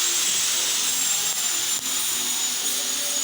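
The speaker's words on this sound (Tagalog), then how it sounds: "Siya yung parang yung tinatawag nilang liha. Ito po yung gamit niya para kuminis lalo yung mesa." Steady abrasive rubbing of sandpaper worked by hand across a wooden table, a continuous bright hiss with little variation in rhythm, fairly close and alone.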